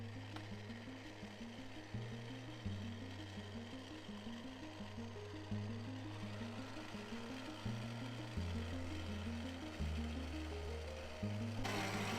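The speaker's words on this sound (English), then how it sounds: "So after 10 minutes of mixing in the machine, the dough should have come together into a ball." A mixing machine kneads pizza dough in a steady mechanical whir. The pitch of the motor shifts every couple of seconds as the load changes, and the sound continues without speech.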